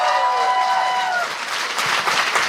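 A live studio audience at a Quebec variety show applauds, a steady wash of clapping and crowd noise that follows a fading tone.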